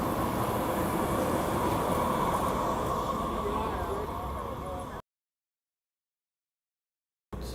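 A San Francisco streetcar passes in the Mission District, its steady rolling rumble and faint wheel squeal loud and close for about five seconds before the sound cuts out and briefly returns.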